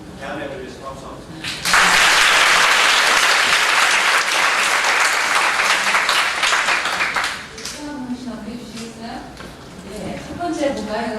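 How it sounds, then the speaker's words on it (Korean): At a worldview lecture, an audience breaks into loud, dense applause that swells suddenly, holds for several seconds, then dies away, with a voice talking briefly before and again after the clapping. "대한민국을 위해서 박수합니다."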